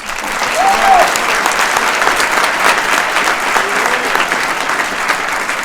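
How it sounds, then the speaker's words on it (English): Audience at a university campus speaking event breaks into sustained applause, a dense, loud wash of clapping filling the hall and holding steady for several seconds. "so a round of applause for the security"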